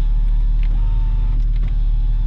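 Power window motor on a 2007 Porsche Cayman, a steady electric whine running under a constant idling engine hum, close and continuous for a couple of seconds.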